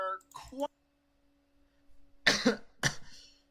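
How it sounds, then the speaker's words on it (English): Two harsh coughs close to the mic after a brief vocal sound, with a faint steady hum in the quiet stretch between. "My cough is really annoying right now."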